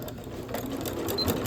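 A sewing machine stitching binding onto a fabric table runner, its steady motor whir and needle chatter running close and continuous throughout.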